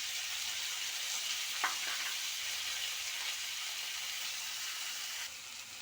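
Tomatoes frying in a pan with ginger-garlic paste and dried red chillies give a steady, close, even sizzle that holds at one level, with a few faint stirring scrapes and no voices.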